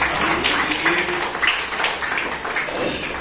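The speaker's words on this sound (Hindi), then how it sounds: "तीनों आंटी जी लोगों के लिए तालियां बजाइए" Audience clapping for three older women at a children's values class, a continuous crackle of many hands at moderate loudness, steady with slight swells.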